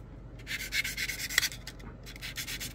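A flexible sanding tool rubs in soft, rhythmic strokes over a model airplane fuselage, a quiet, close scratchy swishing with brief pauses.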